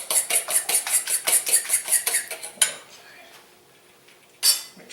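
A metal utensil stirs savory filling in a bowl with a quick, regular series of bright clinks against the side, then stops, followed by one last clink.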